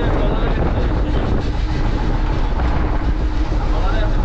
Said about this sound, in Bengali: এই দেখেন আমাদের ট্রলারটা কি পরিমাণে রোলিং হচ্ছে